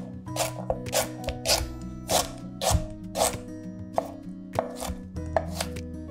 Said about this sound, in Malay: Hiris menyerong untuk mudah kisar.